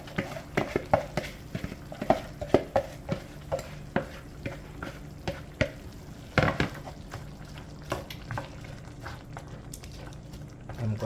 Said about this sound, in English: Now I'm gonna add my other seasoning and veggies.